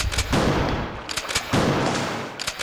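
Shotgun blasts in the PlayStation game Resident Evil 2, two heavy booming shots about a second apart, each followed by a rumbling decay, with a third starting at the end.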